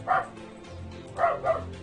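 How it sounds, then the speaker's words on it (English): A dog barks in the background: a short yip, a pause, then two more quick barks, fairly close but not loud, with no talking over it. "There's a dog barking in the background"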